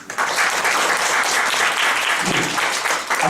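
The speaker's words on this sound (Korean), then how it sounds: "박수 좀 세게 치자니까." An audience applauds at the close of a lecture on new software technology and convergence education, a full, continuous burst of clapping from a crowd that stays loud throughout.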